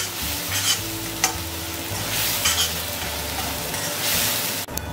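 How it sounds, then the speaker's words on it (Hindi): Masala spices fry in oil in a pan for a green pea dal, with a continuous close sizzle and intermittent scraping stir strokes throughout. "सारे मसाला को अच्छी तरह से फ्राई करूँगी जब तक मेरी साइड से ऑयल रिलीज होता"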